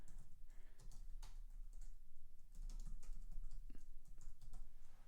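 Text is typed on a computer keyboard in a quiet room, giving a steady, close patter of soft key clicks with brief pauses.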